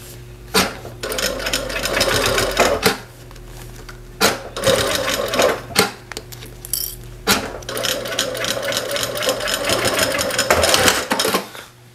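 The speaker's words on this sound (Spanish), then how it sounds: "Voy a hacerle una costura aquí." A sewing machine stitches a faux leather wallet in three rapid mechanical runs, close and fairly loud, separated by short pauses with soft handling noises.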